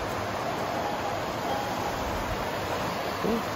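A river flows through terraced countryside at Lembah Bakyo, Lombok, Indonesia, giving a steady broadband rush of moving water throughout, even and moderately loud with no clear breaks.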